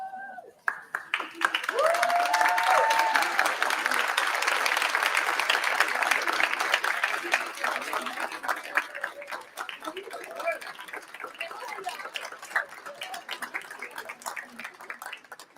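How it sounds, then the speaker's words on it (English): Graduates rise and applaud their families at a university engineering department graduation ceremony, a dense sustained wave of clapping from a large indoor crowd that swells quickly and then gradually thins out, with a brief spoken voice at the very start. "Graduates, would you all stand up, turn around, and clap for your families?"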